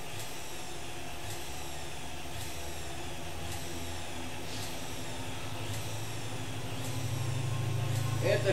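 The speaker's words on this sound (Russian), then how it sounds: "Это шумят поезда" Trains roll past outside a window, a steady low rumble with a regular series of clicks or bangs about every second, swelling louder toward the end; a faint hiss runs underneath.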